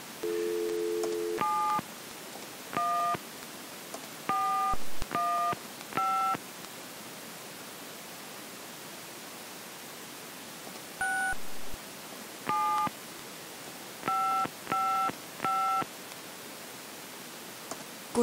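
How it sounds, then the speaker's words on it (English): Telephone keypad tones from the Gabriel Knight adventure game, a series of short, clean beeps dialed in uneven clusters over faint hiss, opening with a brief lower tone. "So let's make a phone call."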